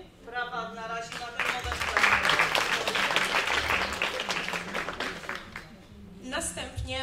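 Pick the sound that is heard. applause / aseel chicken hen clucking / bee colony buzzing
applause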